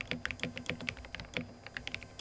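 Keystrokes on a Kemove Dolch optical keyboard with Gateron red linear switches form a quick, uneven run of light, crisp clicks, recorded close and quiet with nothing else heard.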